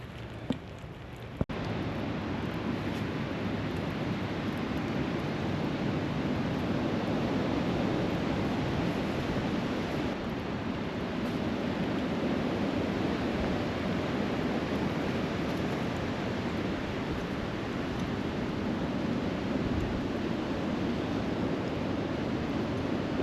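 A constant heavy rush of rain, broad and steady throughout, with a brief bump near the start and no voices.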